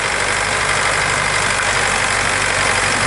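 A DMTZ 544X mini tractor engine, driving a Wirax rotary tiller on unbroken ground, runs steadily and loudly up close, a constant chugging drone with no speech.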